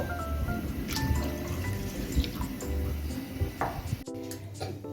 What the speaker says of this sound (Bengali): এখন আমি জল দিয়ে কুড়ি মিনিটের জন্য চালটা ভিজিয়ে রাখবো